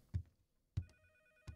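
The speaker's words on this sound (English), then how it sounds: "The phone ringing" A telephone rings in the Case 2: Animatronics Survival game, giving three faint, evenly spaced rings with a thin electronic tone, heard alone with no talk.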